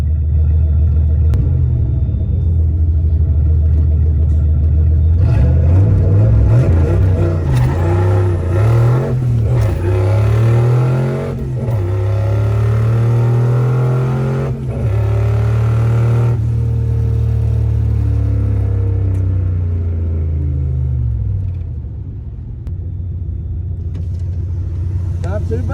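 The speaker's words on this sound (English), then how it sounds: "Kind of spun off the launch, and I will say my burnout was kind of weak" Turbocharged Ford Foxbody Mustang running 10.5 psi of boost with a 3-port MAC valve and Terminator X, loud and close as it revs, surges hard on a launch and holds a long rising engine roar before easing off.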